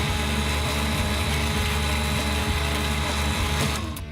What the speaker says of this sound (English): I think this drill bit is dull.